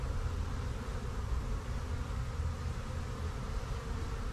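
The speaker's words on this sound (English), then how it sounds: "See all the bees hanging out up front, wanting to get back in, confused as to why they can't" Honeybees in December crowding the entrance of an Apimaye hive during an oxalic acid wand treatment, giving a continuous close buzzing drone that holds an even level throughout.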